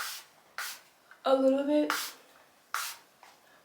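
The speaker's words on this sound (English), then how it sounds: "Now I'm just going to spray my hair" A hand-pumped spray bottle mists water onto blown-out natural hair being set with flexi rods. Several short, hissing spritzes come one after another, close and fairly quiet, with someone speaking briefly between them.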